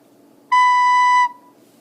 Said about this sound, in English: So I'm going to start by playing a B.